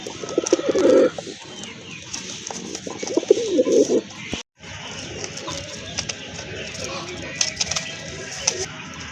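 A pair of fancy pigeons coo in soft, throaty bursts close by, a few separate rounds with a brief gap of silence midway.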